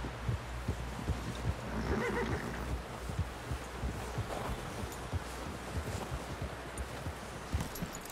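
Horse in Red Dead Redemption 2 heard faintly with soft snorts and steady hoof thuds, set under a low, rumbling background.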